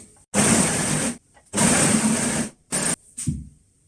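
An overlocker serger stitches fabric in loud, steady whirring bursts close up, two long runs followed by two short ones, with brief pauses between them and no voices.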